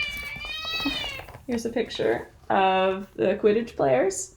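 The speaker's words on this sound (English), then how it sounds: "my cat is making a cameo there in the background" A cat meows several times, fairly close and clear, interleaved with someone talking.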